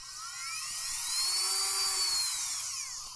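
A Milwaukee 12-volt cordless variable-speed rotary tool runs steadily alone, a high whine that sweeps up in pitch and back down as the speed changes, close and fairly loud.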